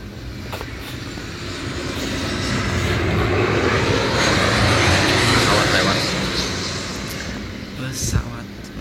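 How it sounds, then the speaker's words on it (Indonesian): An airplane passes overhead, a broad roar swelling in the middle and fading toward the end, with a voice heard briefly over it. "Pesawat lewat."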